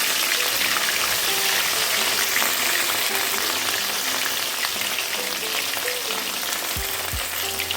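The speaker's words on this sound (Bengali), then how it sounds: "সরিষার তেল গরম হয়ে গেছে এখন আমি মাছগুলো এখানে দিয়ে দেবো এবং হালকা করে ফ্রাই করে নেব" Katla fish pieces sizzle loudly in hot mustard oil, a dense, continuous frying crackle close up with a couple of low clunks near the end.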